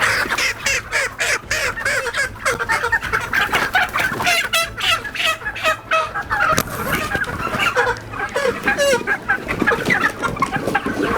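A loud, dense flock of chickens of different breeds at a market clucks and crows continuously, with overlapping calls and sharp squawks close by throughout.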